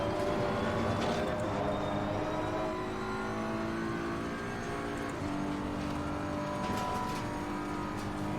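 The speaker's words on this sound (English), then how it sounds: "big, beefy, fat BMW sound" A big BMW engine accelerating hard at high speed, around 245 to 250, with a loud, full, deep engine note holding steady as it pulls without a gear change.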